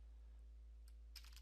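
Keys tapped on an ASUS Zenbook 14 laptop keyboard, with a couple of quick, faint clicks near the end after a quiet stretch, heard alone.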